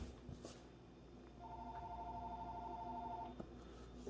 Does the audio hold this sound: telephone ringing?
yes